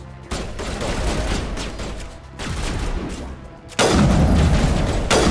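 Gunfire and explosive booms in the Mass Effect Legendary Edition video game, a dense continuous barrage of shots and impacts that grows louder and heavier near the end, with no voices over it.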